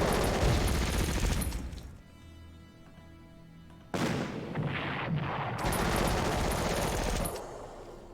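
An anti-tank cannon fires in the World War II strategy game Panzer Corps, loud blasts and rumbling explosions with a quieter gap in the middle before the booming comes back.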